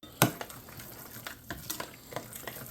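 A spoon scrapes and taps as hash brown casserole ingredients are stirred together with sharp cheddar in a bowl, giving soft, uneven mixing noises with one sharper knock near the start.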